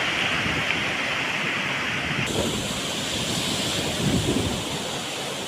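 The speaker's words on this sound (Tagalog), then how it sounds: "Bago magulong yung alon, bumabaluktot." Strong monsoon waves crash on the shore in a continuous loud roar of surf, with gusty wind buffeting the microphone and a heavier surge near the end.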